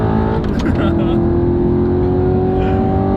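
Audi R8 engine revving hard under acceleration, heard from the passenger seat as a loud, steady rising drone that climbs smoothly in pitch, with people talking over it.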